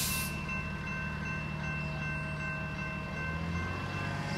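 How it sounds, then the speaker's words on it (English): A four-car Amtrak San Joaquin passenger train, pulled by an F59PHI locomotive, approaches Antioch–Pittsburg station with a steady, loud rumble of engine and rolling cars that holds throughout, with no talking. "Here comes train 711 approaching Antioch, Pittsburgh."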